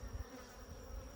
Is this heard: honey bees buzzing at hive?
yes